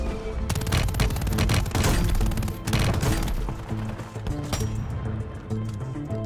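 Rapid automatic gunfire in the video game Warzone, dense bursts of shots filling the first few seconds, then sparser cracks and thuds over steady game sound, loud and close.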